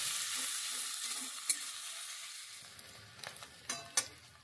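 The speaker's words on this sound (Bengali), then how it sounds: "পেঁয়াজগুলোকে একটু ভালো করে ভেজে নেব" Chopped onions fry in a pan for a Bengali masoor dal khichuri with onion and garlic, giving a steady hiss. A few sharp scraping stirs come near the end.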